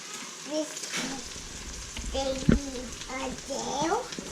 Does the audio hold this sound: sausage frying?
yes